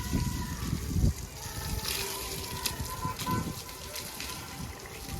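Water is poured to wash something, gushing and splashing in uneven bursts, with a louder splash early on and a continuous running flow throughout.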